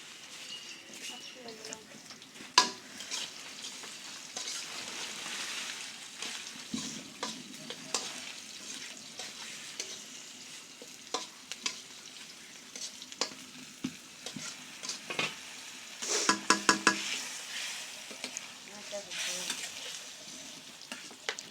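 Two bay leaves and two dried chillies fry in oil, giving a steady sizzle with frequent stirring scrapes and clatters, close by, while a voice talks intermittently over it.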